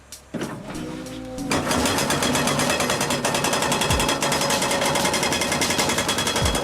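On a hillside rock-breaking job for a natural pool and boulder retaining wall, a large excavator's tall hydraulic hammer starts up and then pounds rapidly and continuously, a loud, dense, close rattling impact.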